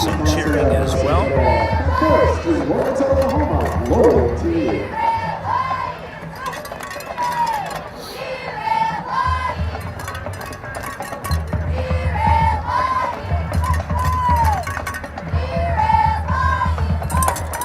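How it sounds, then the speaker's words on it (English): Crowd noise from the stands at a high school football game between Del City and Durant, a loud, sustained mix of cheering, shouting and chatter, with people talking over it throughout. "Best to get you some cheering as well."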